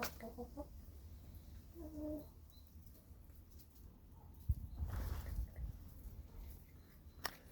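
Chickens cluck in short repeated bursts against a steady outdoor background on a sunny day, with some rustling and a faint thump partway through.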